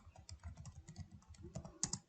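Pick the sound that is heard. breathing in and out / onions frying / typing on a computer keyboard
typing on a computer keyboard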